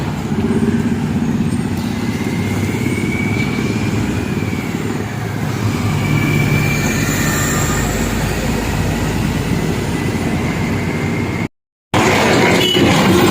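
A continuous loud rumble of a train rolling past nearby in Haldia, India, steady throughout with rising whines and a brief dropout near the end.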